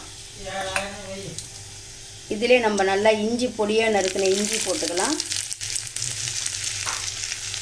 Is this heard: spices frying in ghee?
yes